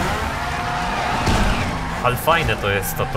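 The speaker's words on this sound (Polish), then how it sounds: "że się tak zmienia ten dźwięk silnika" A Toyota Corolla's engine in Need for Speed Underground 2 drones steadily and shifts pitch as it revs, loud and continuous under someone speaking Polish.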